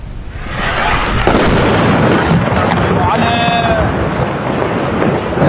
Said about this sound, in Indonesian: Inilah detik-detik serangan udara yang dilakukan Israel terhadap 2 desa di Lembah Beka, Lebanon